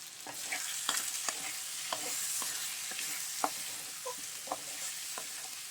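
Taro root curry, chamagadda pulusu, simmering in a pan on low heat, a soft steady sizzle punctuated by regular scraping stirs of a spoon, close and fairly quiet, with no voices.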